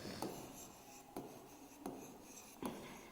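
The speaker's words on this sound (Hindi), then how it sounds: "हम इसको एक blank paper पे लिख देते हैं" A pen writes on a blank sheet of paper in four short, quiet scratching strokes spaced about a second apart, close up and alone.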